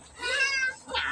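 A cat meows during a bath, two close, short, whiny cries, the first longer and rising, the second brief, heard alone without speech.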